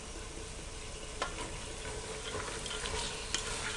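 Chickpeas fry in a pot with a steady, dense sizzle, a few louder stirring scrapes cutting through the hiss.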